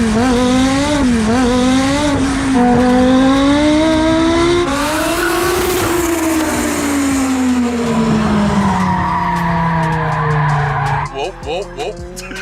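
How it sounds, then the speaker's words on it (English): A rare car slides sideways through a turn, its tires squealing loudly in long wavering tones over engine roar for about eleven seconds before the squeal breaks up, with voices underneath. "He got that more sideways than the S1, just trying to make a turn."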